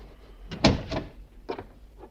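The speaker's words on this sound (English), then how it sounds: "Close the door." A door is pushed shut indoors, a few soft bumps and a firmer thud close by, with a couple of lighter knocks after.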